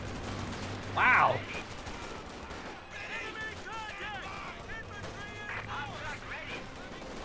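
Anti-aircraft gunfire from a half-track in the Company of Heroes 2 game, one loud sharp burst near the start, then quieter battle noise with someone talking over it.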